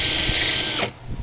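A power drill spins a length of wire while sandpaper is held against it, giving a steady whirring grind that drops away near the end as the motor winds down.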